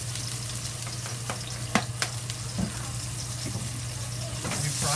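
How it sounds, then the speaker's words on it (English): Green beans with scallion stir-fried in a wok, a steady loud sizzle with a low hum beneath, punctuated by a few sharp clacks of the spatula against the pan. "You fry it."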